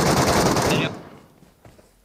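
Dense automatic gunfire from the Metro Royale mode of a battle royale shooter, a loud sustained burst lasting under a second that cuts off abruptly, followed by quiet with a faint click at the end.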